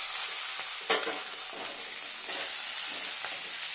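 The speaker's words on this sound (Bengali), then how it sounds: "এবার ফুলকপি দিয়ে নেব" Cauliflower goes into a hot pan with slit green chillies on low heat for an onion- and garlic-free vegetarian dish, sizzling steadily while a spoon stirs and scrapes in short clattering strokes, close and with no talking.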